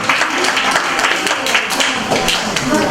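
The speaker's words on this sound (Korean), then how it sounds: "자, 박수." Children in a church service clap together in a brief, lively burst of applause, busy and close with no one speaking.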